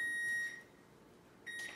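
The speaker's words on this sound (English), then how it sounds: "there goes the timer" Electronic kitchen timer beeping while brownies bake, a steady high tone sounding for about half a second, then silence, then a second short burst, fairly quiet in a calm indoor room.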